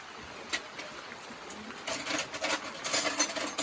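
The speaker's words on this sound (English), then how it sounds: "I'm going to try the hand primer here" A hand fuel primer pumped on an Oliver OC-46 track loader that sat unused for ten years with seized injectors, giving soft, irregular mechanical clicks and squelches that grow busier and louder toward the end.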